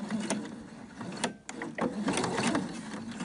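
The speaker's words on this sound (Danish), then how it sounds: "i dag har jeg valgt udelukkende at sy på symaskinen de her små sømme og behandle dem med en kantzigzag" A sewing machine stitches a ruffle for baby bloomers, a close, continuous rapid mechanical whirring and clattering with a brief pause midway before it resumes.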